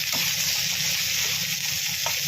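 Fried onion is stirred into dried coconut browning in a pan on low flame, making a continuous dense sizzle with faint scraping touches.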